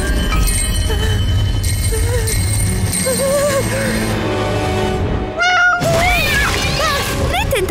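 A cartoon cat in an animated children's series lets out a few loud, close, wavering meows near the end, over a busy bed of music and sound effects.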